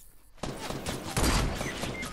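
A fast burst of gunfire in the Fortnite video game, dense overlapping shots starting abruptly after a moment of quiet and rattling on for about two seconds.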